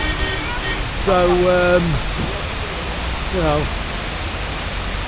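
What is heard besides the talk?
waterfall rushing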